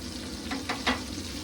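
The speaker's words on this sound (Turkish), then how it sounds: "Şimdi bu yağı güzelce eritiyoruz hafif böyle." Butter melts in a pan for kuymak, a Black Sea cornmeal and cheese dish, giving a steady soft sizzle with a few faint stirring scrapes and no voices.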